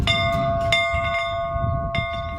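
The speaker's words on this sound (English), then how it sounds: "Once they hear the school bell ring, they go back in time." School bell at a one-room schoolhouse museum ringing with a clear sustained metallic tone, struck repeatedly in a few quick strokes and lingering between them, loud and close.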